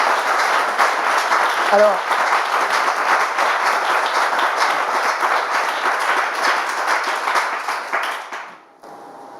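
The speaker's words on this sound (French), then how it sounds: "on peut applaudir l'intervention du pasteur" A church audience applauds a pastor's talk with steady, full clapping that holds for several seconds, fades out near the end, and leaves a faint hum behind. A brief voice is heard during the clapping.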